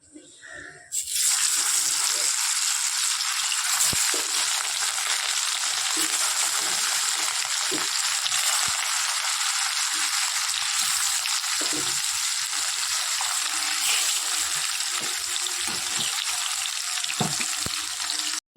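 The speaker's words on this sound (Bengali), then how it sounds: "তেল গরম হয়ে গেছে চলো মাছটা দিয়ে দিই" Fish sizzling in hot oil for a fish curry, a steady broadband hiss after the fish goes into the pan, continuous and close with faint voices underneath.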